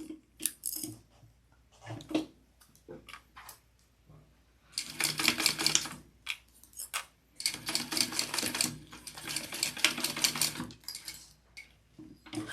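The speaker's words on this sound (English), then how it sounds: "And then I'm going to sew those on at the seam allowance in the pattern." A sewing machine stitches a tote bag seam in several bursts of rapid, even, rattling stitching, some short and two longer runs, separated by pauses with faint handling sounds.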